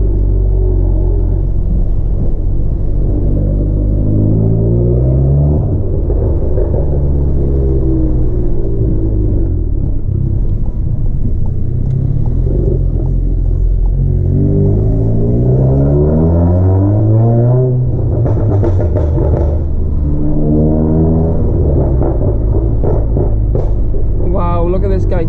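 A tuned 414 bhp Mk7 Golf R at night, its engine and exhaust loud and close, with revs repeatedly climbing and falling in smooth sweeps over a constant low rumble.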